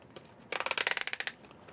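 A clamp on a Broan NuTone roof vent duct is ratcheted tight, a quick run of about a dozen crisp, evenly spaced clicks that speed up slightly, close and fairly quiet, with no talking.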